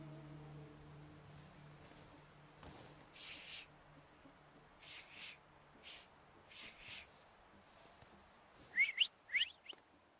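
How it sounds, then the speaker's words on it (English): Whistling in The Thaumaturge video game, a few short rising whistle notes near the end, preceded by faint scattered bursts of game sound over a quiet background. "So, have you mastered whistling?"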